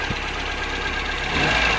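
A running Kia Pride engine idles close by with a rough, knocking, scraping rattle from a faulty water pump riding over the steady mechanical drone.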